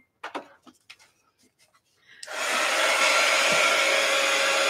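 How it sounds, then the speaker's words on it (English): After a few soft knocks and faint handling sounds, a heat gun clicks on and blows with a loud, steady rushing roar that continues unbroken to the end. "heat gun alert as soon as I find my heat gun"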